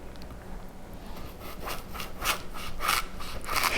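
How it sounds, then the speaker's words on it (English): A knife saws across the bottom of an apple to flatten it for a swan garnish, giving a run of close, rasping strokes that grow louder toward the end. "Now, to start off, you're going to trim the bottom. That helps the apple stay flat."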